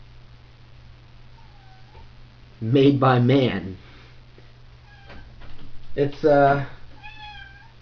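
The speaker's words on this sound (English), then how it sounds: "That's my cat." A pet cat meows indoors, giving several thin, rising and falling cries spread across the moment. A person talks loudly in between and over them, and the cries sound fairly close.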